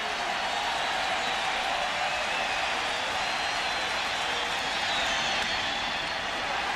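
Baseball stadium crowd at a 1998 Astros home game against St. Louis, on its feet and cheering as a steady, distant roar of voices and applause filling the whole stretch without letup.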